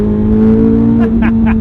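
A 2023 Chevrolet Corvette Z06 with a flat-plane V8 holds a loud, steady high-pitched engine note, heard close from inside the car, with brief voice sounds near the end.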